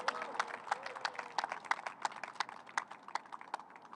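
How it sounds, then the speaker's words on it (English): A small crowd at an outdoor groundbreaking for a café and market gives a thin, fairly distant round of hand claps, with individual claps audible as sharp, uneven taps. "Let's please give a hand clap for Ms. Muhammad and Mr. Muhammad"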